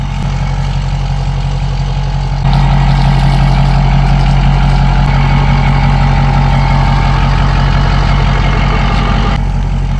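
A truck engine idles loudly and steadily close by, a constant low rumble that grows slightly heavier after the first few seconds.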